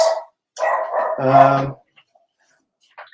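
A dog barks frantically at a delivery at the front door of a house: a few loud, close, rapid barks in quick succession, then a short faint sound after a pause.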